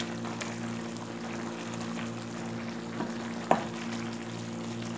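Meat browns in a pot with onion and tomato for kebab halla as the lid comes off and it gets stirred, producing a steady moderate sizzle with one sharp clack partway through.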